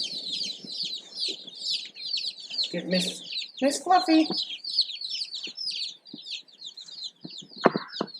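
Baby chicks in a brooder peeping continuously: dense, high, chirpy calls close by throughout, with a person speaking briefly in the middle.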